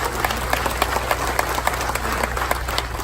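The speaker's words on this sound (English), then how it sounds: "give them an applause." Crowd applause for the Coast Guard at a Jacksonville public event, a dense patter of clapping with sharper individual claps poking through, set over a low steady rumble.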